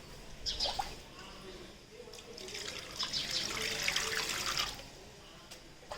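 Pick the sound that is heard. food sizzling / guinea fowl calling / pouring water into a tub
pouring water into a tub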